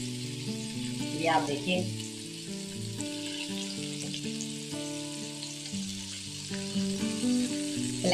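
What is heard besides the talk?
chicken pieces shallow frying in a pan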